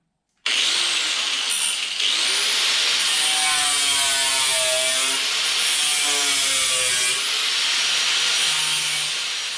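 A hand saw cuts wood to trim a solar oven cooking tray, with steady back-and-forth rasping strokes starting abruptly and continuing loud and close without pause, and no voices.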